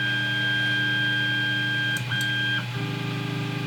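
3D printer running after a silence-focused modification: a steady, fairly loud mechanical hum with sustained whining tones from the stepper motors, shifting pitch as the print head changes moves, with no voices.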